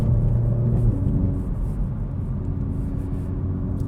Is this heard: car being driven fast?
yes